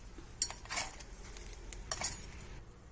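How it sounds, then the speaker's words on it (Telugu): Fried ingredients for a peanut and coconut chutney are tipped into a mixer grinder jar. A few faint clinks and soft scrapes sound close but quiet, with no speech. "ఇప్పుడు వీటన్నిటిని మిక్సీ జార్లో వేస్తున్నాను"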